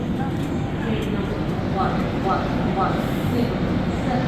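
The Rajdhani Express pulling out of Gwalior Junction, a six-platform station, with a steady low rumble and faint clatter of the carriages under continuous ambient noise.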